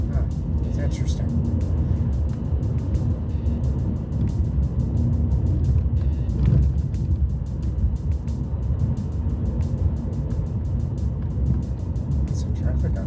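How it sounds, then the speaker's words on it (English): Vehicles pass steadily on a nearby road, making a continuous broadband rush and roar that stays fairly loud throughout with only slight swells. "Some traffic on the road today."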